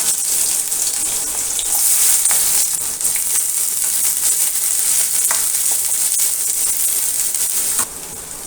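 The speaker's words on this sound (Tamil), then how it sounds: "கொஞ்சம் ஆயில் ஊற்றிக்கலாம் ரெண்டு சோம்பு ரெண்டு பட்டை கிராம்பு போட்டுக்கலாம் வெங்காயம் போட்டுக்கலாம்" Onions frying in oil in a kadai with fennel seeds, cinnamon and cloves for a white peas kurma, a loud, steady sizzle with occasional stirring scrapes.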